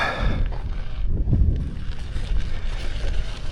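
Wind rushes and buffets the microphone while a rider travels on a new KingSong F18 electric unicycle, a steady, rough low rumble with gusty swells throughout.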